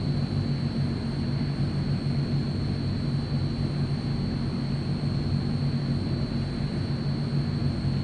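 A Transall C-160 military transport taxiing in Microsoft Flight Simulator, giving a steady, loud propeller-engine drone with a constant high whine that does not let up, and no voices.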